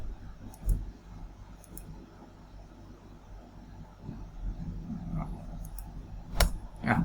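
Computer mouse clicks at a desk during drawing work, a few light, scattered clicks including a quick double click and a louder click near the end, close and faint over a quiet room hum, with no talking.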